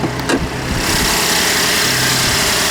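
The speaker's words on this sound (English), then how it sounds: "let me go ahead and start this thing up" A 2016 Chevy Impala engine turns over and settles into a loud, steady idle, a continuous close rumble with a faint whine on top.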